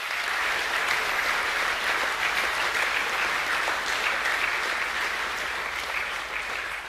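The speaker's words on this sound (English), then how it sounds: "Could we please give those guys a round of applause?" An audience at a school assembly gives steady, dense applause that holds at an even level for several seconds and fades slightly at the end, with no voices over it.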